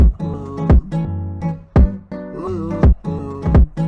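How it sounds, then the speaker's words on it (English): Punchy kick drums in an FL Studio hip-hop beat hit in a regular bouncing pattern, loud and close, over a pitched-down melodic sample loop. "I went and added me some kicks"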